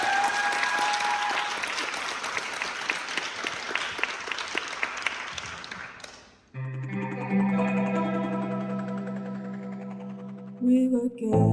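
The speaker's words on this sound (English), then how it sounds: "a round of applause for Laura" A talent-show audience applauds in a dense, sustained burst of clapping for about six seconds, which fades out as music starts.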